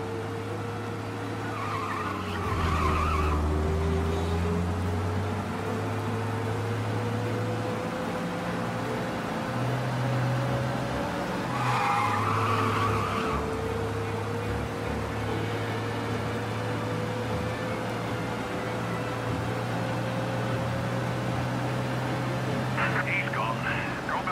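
A car engine drones steadily at close range for the whole stretch, with a couple of brief skids and screeches, under bursts of talk.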